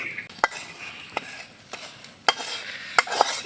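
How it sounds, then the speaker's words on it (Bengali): Fried onion and garlic being stirred into khichuri in a pot, with a soft sizzle beneath intermittent scraping and clinking knocks of a utensil against the pan, each stroke brief and sharp. "আমাদের পেঁয়াজ রসুন ভাজি হয়ে গেছে এবার লাভিয়ে দিলাম"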